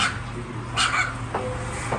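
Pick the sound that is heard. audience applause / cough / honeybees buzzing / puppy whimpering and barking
puppy whimpering and barking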